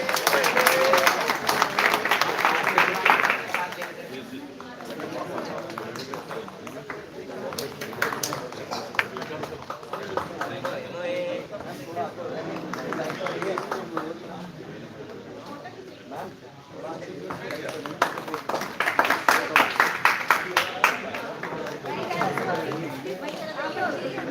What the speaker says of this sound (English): Could you please clap for your colleague?